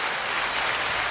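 A studio audience claps for a morning show, a dense, steady burst of applause at close range without a break, no voices audible.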